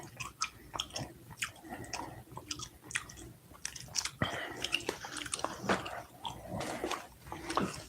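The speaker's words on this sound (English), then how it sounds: "I hope y'all digging the gum chewing." Close, wet gum chewing with irregular smacking and clicking bites spread throughout, loud and intimate with no talking over it.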